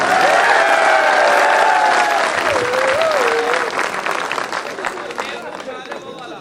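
A crowd at a cultural festival gathering claps loudly and steadily, with a whistle-like tone and cheering voices over the top early on, and the clapping thins out toward the end.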